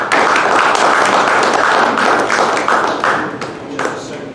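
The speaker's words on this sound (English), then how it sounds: "let's give a big round of applause to Chris" Evening lecture audience applauding a presenter in a hall, dense continuous clapping from many hands, loud and steady, tapering slightly toward the end.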